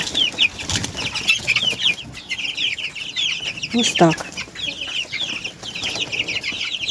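A flock of broiler chickens clucking and peeping continuously nearby, with a brief flurry of wing flaps and a short spoken remark in the middle.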